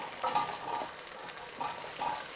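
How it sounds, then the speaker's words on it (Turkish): Half a kilo of shelled chestnuts goes into a frying onion and potato mixture for soup, giving a steady soft sizzle with a few light stirring scrapes, close and moderate in level. "soğan patates e, karışımına e, yarım kilo iç kestaneyi ilave ediyorum"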